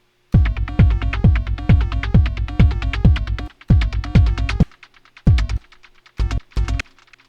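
A Moog DFAM drum synthesizer plays a loud run of sharp percussive hits, steady at first, then breaking into scattered, sparser notes, each decaying into a reverb tail.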